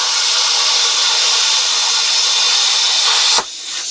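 A Bestarc BTC500DP Gen 7 plasma cutter cuts 3/16 metal at 44 psi and 30 amps, giving a loud, steady broadband hiss for over three seconds that cuts off abruptly near the end, leaving a quieter hiss.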